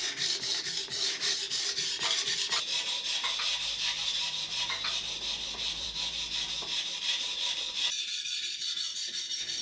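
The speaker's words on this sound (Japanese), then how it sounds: "刃の位置を少しずつずらしながら研ぐ。" A kitchen knife blade stroked back and forth on a whetstone in an old Japanese-style room, giving a close, steady rhythmic rasping scrape that continues throughout with no speech.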